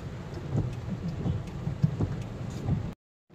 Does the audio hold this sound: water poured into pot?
no